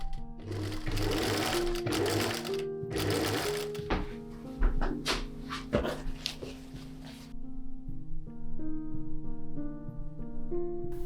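A sewing machine stitches boning channel seams in 18th-century-style stays made with liquid organza. It whirs in loud close bursts with pauses and thumps between them, and a dog whimpers and gives soft tonal cries toward the end.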